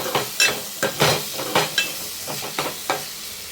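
Food frying in a pan over a low flame, with a soft sizzle broken by several short bursts of stirring, close and clear with no talking.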